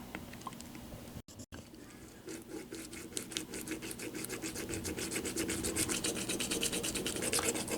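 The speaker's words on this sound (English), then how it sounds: "I'm just going to drill through the styrene." A Micro-Mark micro hand drill bores through a 1/16-inch styrene sheet, giving a steady scratchy rasp of rapid, even turns that grows louder and denser, heard alone.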